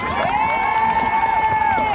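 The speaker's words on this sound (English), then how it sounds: "A big round of applause for them, please." A crowd at a women's rights rally cheers and applauds at close range, with a long, shrill whistle or shout sustained over the steady clapping and crowd noise.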